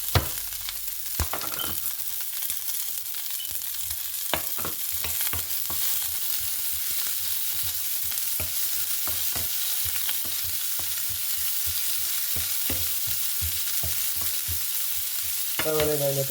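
Sliced ginger, garlic and green chilli frying in a pan for an Easter chicken stew, a steady sizzle with frequent clinks and scrapes of a spoon stirring throughout, no talking.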